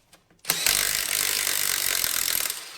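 A Milwaukee 1/2 inch impact gun removes a wheel nut, giving one loud, continuous burst of rattling hammering that lasts about two seconds after a couple of faint clicks.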